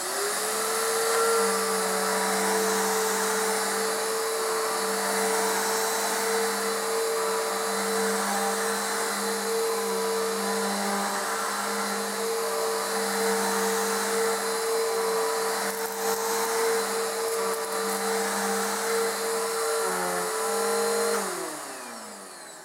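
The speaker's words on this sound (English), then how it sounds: "Next is the Bissell Power Force Helix Turbo." A Bissell Power Force Helix Turbo vacuum cleaner runs with a steady, loud motor whine and airy rush for about twenty seconds, then winds down near the end.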